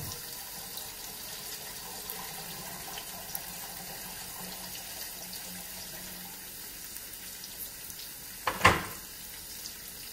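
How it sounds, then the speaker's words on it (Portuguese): Water runs steadily from a tap into a cooking pot for several seconds, filling it for boiling pasta, with a brief louder splash or clatter near the end. "Aqui nesta panela vou juntar a água"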